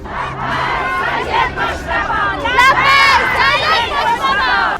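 A huge, angry funeral crowd in Iran, reportedly on the streets of Mashhad, roars with loud massed chanting and shouting voices, dense and continuous, with rising surges of yelling.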